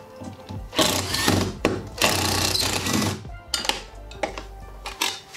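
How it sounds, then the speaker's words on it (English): A Makita impact driver removes anchor screws holding a window in a school bus during a bus conversion, rattling in several loud, hammering bursts separated by short pauses. "having a good impact really makes this job easier"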